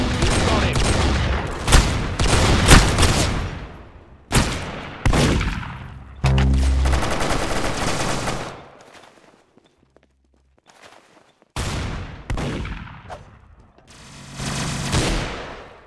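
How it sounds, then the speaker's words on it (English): Bursts of rapid automatic gunfire come in several long, loud volleys, separated by short silent gaps, with reverberant booms trailing after each burst. "Very good shooting."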